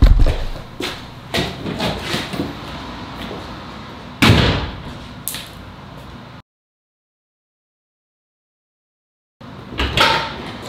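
Indoors, a door swings and bangs shut with several knocks and thumps, one sharp slam standing out, followed by a few seconds of silence and then more bumps and clicks.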